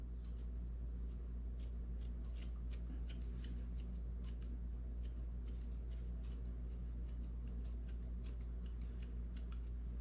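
Grooming scissors snip through a long-haired dachshund's coat in quick, light, irregular clicks, close and quiet over a steady low background hum.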